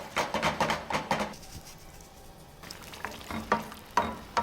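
Whole peeled Neapolitan tomatoes cooking in a pan over a medium flame, with a soft sizzle and bursts of stirring and clattering at the start and end, quieter simmering between.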